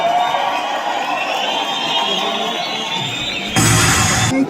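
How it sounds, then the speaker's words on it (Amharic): Crowd at a fight event cheering and clapping, a loud sustained roar of many people throughout, swelling into a brief burst near the end. "በፊት እስቲ ሞቅ ያለ ጭብጨባ"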